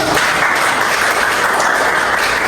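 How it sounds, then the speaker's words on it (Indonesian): A classroom of students claps for Danan and Karis, brief steady applause heard alone. "Oke, tepuk tangan untuk Danan dan Karis dulu."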